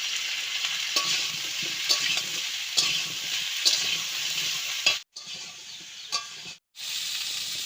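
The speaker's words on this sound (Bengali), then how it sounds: "পেঁয়াজটা হালকা ভাজা করে তার ভিতরে ফুলকপিটা দিয়ে ভালোভাবে ভাজা করে নেব" Cauliflower and onion stir-fried in a pan, a steady oily sizzle with stirring scrapes roughly once a second and two brief dips where the frying noise cuts out, close and alone.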